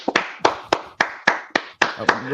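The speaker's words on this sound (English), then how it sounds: "Everybody, give OGK a round of applause." A few people clap briefly and unevenly, about ten sharp claps over a couple of seconds, close by, with voices around them, as applause on a talk show.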